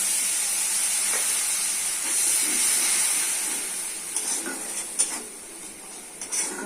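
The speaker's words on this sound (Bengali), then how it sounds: "দিয়ে দিচ্ছে সামান্য জল।" A little water hits a hot pan of soybean chunks, potato and lentils, throwing up a loud steady hiss of steam that slowly fades, with a few small clinks toward the end.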